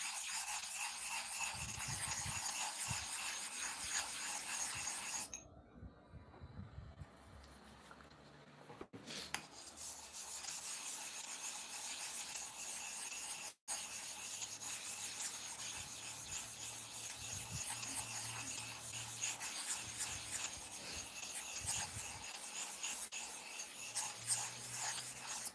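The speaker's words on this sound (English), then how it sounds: "So I'm trying to activate the surface of the quartz surface stone" A quartz surface stone is rubbed to activate its surface before sharpening clipper blades, giving a steady, close rasping scrape that runs almost without a break, with only a few brief pauses.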